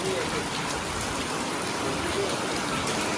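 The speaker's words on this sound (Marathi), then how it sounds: "पाऊस जोरदार आहे." Heavy rain falling steadily at a temple site by the sea, a dense, even hiss with no breaks, moderately loud throughout.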